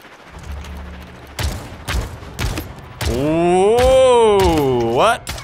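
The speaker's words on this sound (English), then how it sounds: "I swear I was shooting that mage in the butt right there." Bursts of rapid gunfire in the Realm Royale battle game, several short sharp volleys up close, then a long wavering tone over continued shots, with a voice briefly exclaiming.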